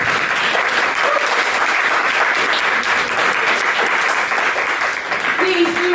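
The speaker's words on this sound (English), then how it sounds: "Let's give her a round of applause." An audience at an evening art event applauds, a steady, full round of clapping from many people that carries on evenly throughout, close and fairly loud.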